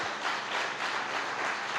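A church congregation applauds during a Sunday night service, a steady, dense wash of clapping that stays even and fairly loud throughout.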